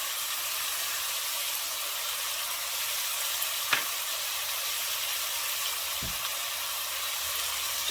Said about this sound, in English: So we do just want to get this nice and brown.